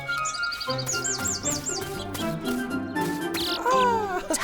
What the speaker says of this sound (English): There's the little bird.